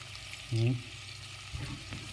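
Chopped onions drop into a hot pan and sizzle, a brief louder hiss and clatter followed by a low, steady frying crackle.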